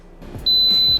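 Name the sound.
Instant Pot pressure cooker beeping when done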